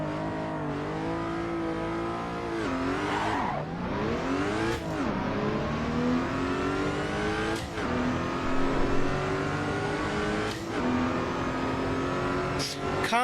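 A race car engine in the AC EVO racing sim revs hard through repeated upshifts, each pitch climb ending in a sharp drop at the shift, loud and continuous with faint tire noise, with no talking.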